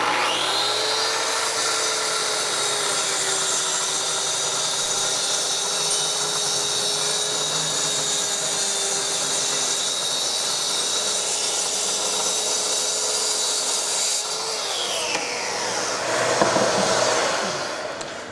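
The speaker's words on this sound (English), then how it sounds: "So when I push that forward, I can do a plunge cut if I want to." A Bosch GKT13-225L corded track saw plunge-cuts plywood, its motor holding a loud, steady high whine for about fifteen seconds before spinning down, with a brief clatter at the end.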